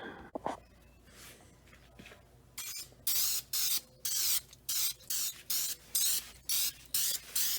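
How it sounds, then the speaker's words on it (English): An older aerosol can sprays weakly in a series of short hissing bursts, roughly eight evenly spaced pulses, following a few quieter clicks and rattles. "Okay, so this spray is not coming out very well"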